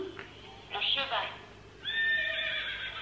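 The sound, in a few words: horse neighing, likely from a toy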